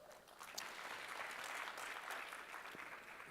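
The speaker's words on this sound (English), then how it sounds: "Can you guys hold your applause?" Applause from the audience at a general session of a disaster recovery industry conference rises quickly and holds as a steady, full patter of many hands, heard from a distance and alone, without talking.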